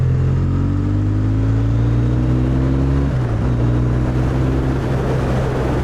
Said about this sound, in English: let's see if we can hear a bit of the engine.